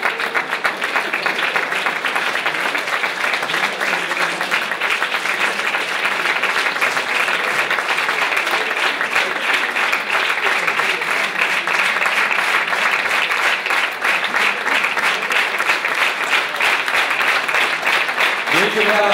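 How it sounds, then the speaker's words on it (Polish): Steady, dense audience applause filling the whole stretch at an event honoring Olympic gold medalists, loud and continuous without pause. "Wielkie brawa."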